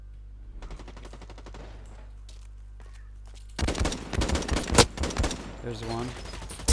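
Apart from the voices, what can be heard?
gunfire from video game Blacklight Retribution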